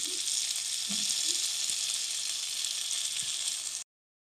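Tofu sisig fries in a pan with oyster sauce, a dense, steady close sizzle with a few soft knocks underneath that cuts off abruptly.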